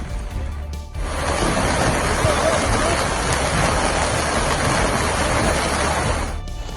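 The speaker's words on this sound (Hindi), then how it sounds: "रामबन में पिछले 3 दिन से तेज बारिश हो रही है" Heavy rain pouring during a flash flood in Ramban, Jammu and Kashmir, a loud, dense, steady roar of water that holds constant for several seconds before easing slightly at the end.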